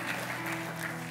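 Congregation in a church service applauding together, a steady continuous wash of clapping at moderate level with a faint musical hum underneath.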